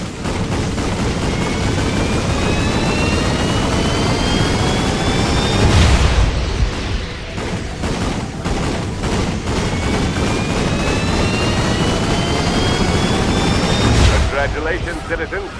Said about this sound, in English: Try firing your combustors at once to deliver a supercharged blast of power.